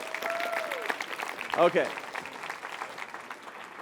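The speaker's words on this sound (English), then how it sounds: "Would you give a big round of applause to all 4 of my volunteers?" An audience applauds four volunteers at a stage show, a steady wash of clapping that runs under a host's voice, with a brief louder burst midway.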